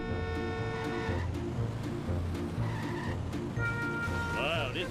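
In a Simpsons driving game, a car's engine drones steadily while tires squeal and skid in short bursts and thuds of impact break through, with a game voice chiming in briefly.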